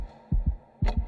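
Heartbeat sound effect in a horror story narration: two paired low thumps, lub-dub, repeating twice at a steady slow pace, close and fairly loud with no voice.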